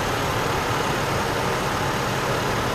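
A 2009 Chevrolet Trailblazer with a 4.2 liter Vortec V6 engine running at a steady idle, a constant smooth low rumble with broadband hiss and no variation, no voices.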